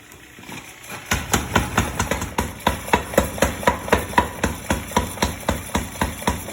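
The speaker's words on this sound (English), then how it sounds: "setup piece on the power hammer." A mechanical power hammer pounds in a fast, steady rhythm of heavy blows, drawing down hot steel for a forged leaf hook, loud and close, starting after a brief quieter moment.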